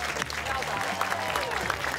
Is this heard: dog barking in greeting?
no